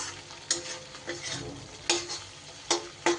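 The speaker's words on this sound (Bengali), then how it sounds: "আমি এই সময় শিউলি পাতাটা দিয়ে দিলাম" Night jasmine leaves hit hot oil and are stirred for an ash gourd dish, a close sizzle punctuated by several sharp spatula knocks and scrapes against the pan at irregular intervals, with no talking.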